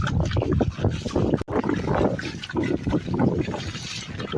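Heavy rainwater flowing and overflowing onto a road during wind and rain, a loud, continuous rushing and gurgling close by with gusty turbulence.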